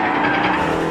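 A hotshot truck with failing brakes slides along, its tires skidding and squealing. A loud, sustained rush of road and tire noise fills the whole second without pause.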